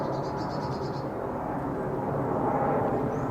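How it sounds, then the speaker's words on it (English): A Jet2 Boeing 737 airliner bound for Mallorca passes overhead, a steady broadband engine roar that swells slightly toward the end, heard from a garden with no talk over it. "coming out from behind the clouds will be a Jet 2737"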